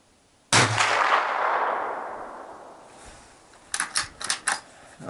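A Savage .22 LR rifle fitted with a Tasco scope fires a sharp crack that rings off, followed a few seconds later by a quick string of four lighter snapping shots, heard outdoors at close range.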